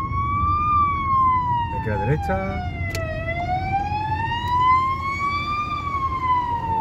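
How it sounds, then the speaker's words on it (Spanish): An ambulance siren slowly rising and falling in pitch, steady and fairly near, heard from inside a car in Sarrià, Girona, over a low engine rumble, with a person speaking briefly partway through. "a ver por dónde viene la ambulancia"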